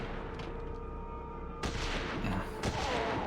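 Rifle gunfire in the survival horror video game Forbidden Siren 2, a sharp burst partway through followed by a second blast about a second later, loud over a steady low game ambience, with no talk.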